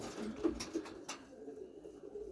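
Soft, low pigeon coos repeat a few times at an animal market in Długa Kościelna, fairly close, with faint rustling around them.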